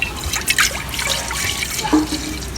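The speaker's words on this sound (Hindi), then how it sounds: "इसमें हमने 1 किलो दूध डालना है।" Milk is poured into mango juice for a fruit custard, giving a steady liquid splash and trickle with a few drips, close and moderately loud, with no talking.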